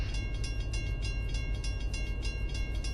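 A railroad crossing signal in a train simulator game rings loudly with fast, evenly repeating dings over a steady low rumble.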